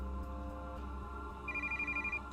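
A video game telephone rings with a quiet, steady electronic trill that starts partway through, pulsing in rapid even bursts over a low ambient drone.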